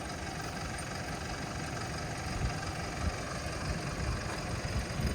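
A diesel tractor engine idles steadily with a low, rumbling chug and faint knocking, continuous and unchanging.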